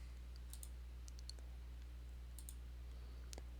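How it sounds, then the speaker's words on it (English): Typing on a computer keyboard, a few scattered light clicks and key taps, faint and close, over a quiet low hum with no talk. "So all I did was type in slope field generator."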